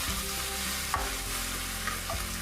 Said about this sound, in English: Keep stir frying till well incorporated.